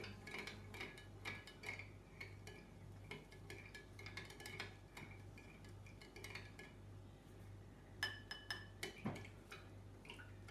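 A spoon stirs sugar into water in a glass, producing a long run of quick, faint tinkling clinks over a steady low hum, with a few sharper taps toward the end.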